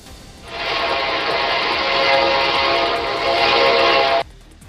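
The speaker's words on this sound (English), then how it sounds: "Two drivers narrowly escaped before an Amtrak train hits their cars in Raleigh." A loud, sustained Amtrak train horn blasts at a Raleigh railroad crossing, one steady tone held for about four seconds before cutting off abruptly.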